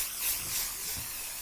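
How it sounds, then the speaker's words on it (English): SC1 protectant spraying from a can onto a freshly washed 2016 Honda Rubicon, a steady airy hiss with slight swells in intensity, close and fairly loud, no voices. "just spray it on there"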